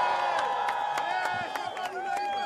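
Crowd at the Nazaré big wave surfing challenge cheering and whooping, with shouts and bursts of clapping forming a lively, dense roar, and a voice talking over the noise.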